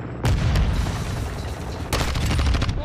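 Rapid gunfire in a Modern Warfare 2 match, dense continuous automatic bursts with booming impacts, loud and close, a fresh volley cutting in near the end.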